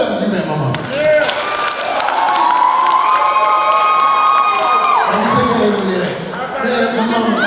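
A comedy special crowd at the Granby Theater claps, cheers and whoops loudly for several seconds, with shouting voices rising over the applause before it dies down.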